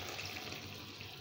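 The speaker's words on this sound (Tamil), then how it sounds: "இப்போ வந்து பாலை சேர்த்துக்கலாம்" Warmed milk poured into a pot for sago kheer, a short continuous liquid pour heard close and alone.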